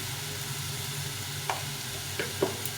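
Spices sauté with salt and turmeric for a bata fish curry, giving a soft, steady pan hiss with a few light stirring taps.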